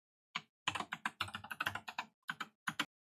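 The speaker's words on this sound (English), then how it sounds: "and then type it again." A password typed on a computer keyboard: crisp, close keystrokes in a quick uneven run, a brief pause, then a few final taps, with nothing else in the background.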